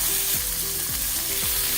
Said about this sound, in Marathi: आणि आता हा चांगला मऊ होईपर्यंत आपल्याला परतून घ्यायचा